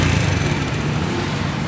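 A Honda Wave 100 motorcycle engine with a stock pipe runs steadily up close, a loud, continuous buzzing drone with no talk over it.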